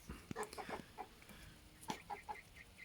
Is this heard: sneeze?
no